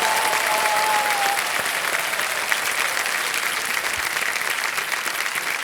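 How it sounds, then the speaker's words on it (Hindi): Sustained, loud audience applause fills a TV quiz show studio, dense and even from start to finish. "तालियां बजते रहें इनके लिए"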